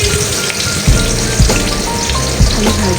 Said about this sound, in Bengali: আমি ভাজতে শুরু করে দিলাম।